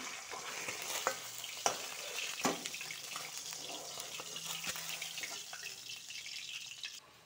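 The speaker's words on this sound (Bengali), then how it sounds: "মাছের তেলে ডাইলে বুড়িটা ভেজে নিব" Lentil bori frying in oil left from cooking fish, a steady soft sizzle with occasional stirring clicks and scrapes in the pan, close but quiet, no voices.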